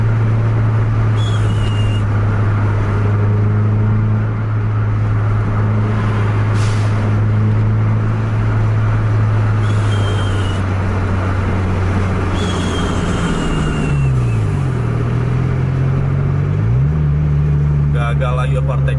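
A Scania 360 bus cruises at highway speed around 110 km/h among trucks, its engine a loud, steady drone that dips and rises as it shifts, under continuous road and wind noise.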